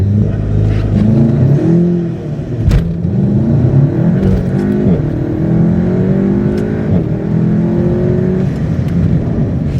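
A Volkswagen Golf GTI Clubsport engine revs and accelerates loudly and close up, its pitch rising through the gears in repeated climbs, with no talking over it.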